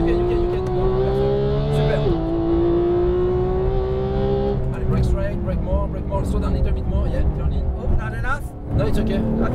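Porsche 911 GT3 engine on a racetrack, revving steadily on throttle with a sustained loud drone that rises and shifts in pitch, while a driving instructor talks over it throughout.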